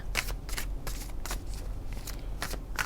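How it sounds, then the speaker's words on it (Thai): Tarot cards are shuffled by hand in a series of brisk, papery riffle bursts separated by short pauses, close and fairly quiet, with no talking. "ก็จะขอสับไพ่เลยนะคะ"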